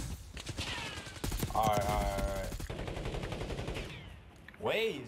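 Warzone (Black Ops 6) gunfire in rapid automatic bursts, close and punchy, with game sounds and bits of voice mixed in.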